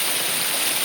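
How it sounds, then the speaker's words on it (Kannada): A small waterfall on a private farm plantation pours over big rocks, making a constant close rushing of falling water that fills the short moment without any talking. "ಇದು ನಮ್ಮ ತೋಟದ 2ನೇ ಖಾಸಗಿ ಜಲಪಾತ ಆಯ್ತಾ"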